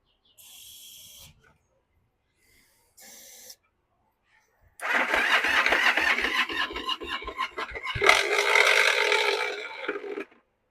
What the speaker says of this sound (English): The starter's not sounding too healthy.